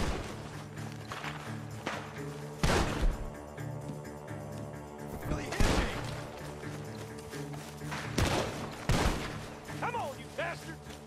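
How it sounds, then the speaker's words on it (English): Gunfire in the Red Dead Redemption 2 story mode, with several loud separate shots and bursts from a barn over game music and mechanical clatter, under occasional voices. "Gunshots are coming from that barn!"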